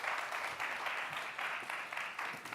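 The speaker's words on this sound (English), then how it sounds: "a round of applause for Trevor and Brian and" Steady applause from a seated audience greets guest speakers at a trading conference Q&A in Vancouver, a dense, even patter of many hands, fairly close and sustained throughout.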